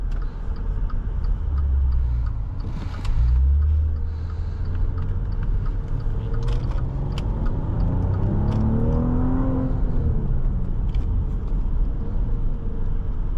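A 2020 Maserati Levante GranLusso SUV engine rumbles at idle, then swells through revs in sport mode with open exhaust valves and a throaty growl, the pitch rising and falling before settling back.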